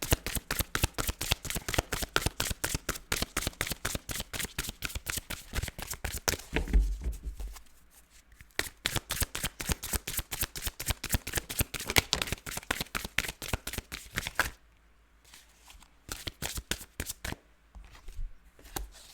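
Tarot cards being shuffled close up, a fast run of crisp riffling flicks in steady bursts with a couple of brief pauses, no talking.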